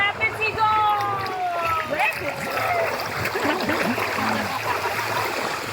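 Rushing, splashing water of the rapids ride at Blizzard Beach water park, a steady close wash under excited shouts and talking.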